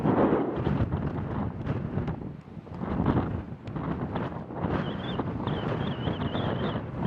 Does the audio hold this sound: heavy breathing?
no